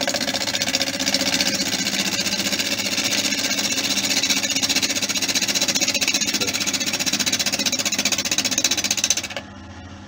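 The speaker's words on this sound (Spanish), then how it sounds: "Corte de empujar es esto. Cuando uno está empujando y está cortando" A bowl being push-cut with a gouge on a wood lathe, giving a steady, loud continuous grinding drone with motor hum throughout, cutting off abruptly near the end.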